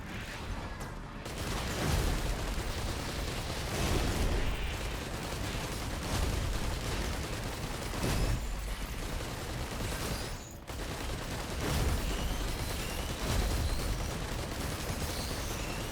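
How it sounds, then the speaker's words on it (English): Bundle of fireworks item exploding in the video game Risk of Rain 2, a dense, continuous barrage of loud crackling blasts and booms with brief lulls, no talking. "Get rid of the bundle of fireworks."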